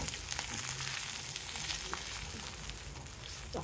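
Raw banana pieces fry in a tempering of oil, chana dal and curry leaves, a soft steady sizzle with scattered light crackles and pops, fairly quiet and close.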